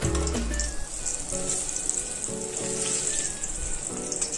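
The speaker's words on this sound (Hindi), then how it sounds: "बड़ा सा बैंगन था, तो उसको फ्राई कर लेते हैं" A large eggplant frying in a pan gives a loud, steady sizzle and crackle throughout, with a few faint clinks.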